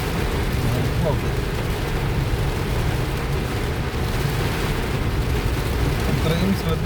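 Steady heavy rain pounds a car while it drives, a thick unbroken hiss over a low road and engine rumble, close and constant from start to finish.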